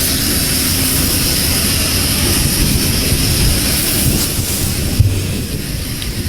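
Jet engines of an airplane arriving at Bamako airport roar steadily and loudly throughout, a dense continuous rumble with broad hiss and no pauses or voices.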